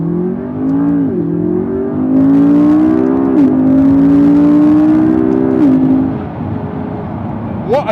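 A McLaren 12C engine pulls hard, its loud rising drone stepping up through gear changes in a steady sweep before it eases off, heard from inside the car.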